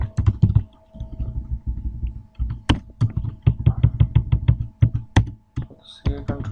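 Computer keyboard being typed on while writing CodeIgniter PHP code, quick close clattering keystrokes in uneven bursts with short pauses, loud and alone.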